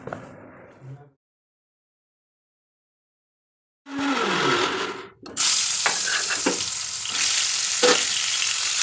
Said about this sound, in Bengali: মাছগুলো ভাজা করছি